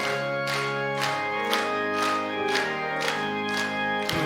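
A church congregation at a Wednesday evening devotional service claps in a steady beat, about two claps a second, along with hymn 323. The clapping is moderately loud and even, layered over sustained singing and accompaniment.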